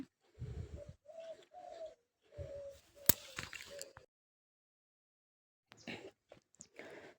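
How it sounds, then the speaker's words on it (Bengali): Soft cooing bird calls in short repeated phrases, fairly close, with quiet gaps between them and a few brief chirps near the end. "পাখির ডাক"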